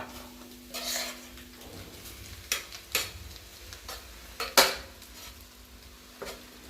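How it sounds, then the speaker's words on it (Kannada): Rice tipped into a hot pan for homemade egg rice and stirred, with scraping spoon strokes, a few sharp clinks against the pan and a soft sizzle underneath, close and moderately loud, no talking. "ಈಗ ರೈಸ್ ಹಾಕ್ತಾ ಇದ್ದೀನಿ."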